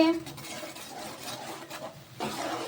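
A spoon stirs green chillies and onions through hot oil in a pan, making a close scraping, rubbing clatter. The stirring continues steadily, with soft sizzling and a voice speaking over it.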